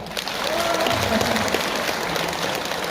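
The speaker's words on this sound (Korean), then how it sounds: "아름다운 박수 부탁드릴게요." An audience at a senior welfare centre concert in Yeongju applauds after a ukulele group's performance, giving a dense, even wash of clapping that carries on for the whole moment, with faint voices mixed in.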